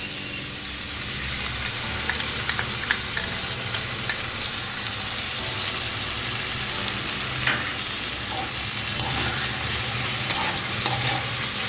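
Loud, continuous sizzling as sauce is added to a frying pan for chilli mushroom, with occasional stirring scrapes and pops and no talking.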